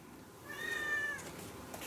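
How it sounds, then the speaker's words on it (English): A house cat meows once for attention, a clear drawn-out mid-pitched cry rising and holding for about a second, close and fairly loud over a quiet indoor background. "I have a cat that's wanting attention"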